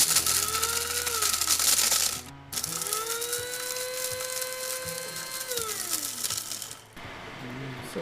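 An electric coffee grinder grinds roasted dandelion root in a loud, close whine that rises and falls in pitch across several bursts, with brief pauses between runs.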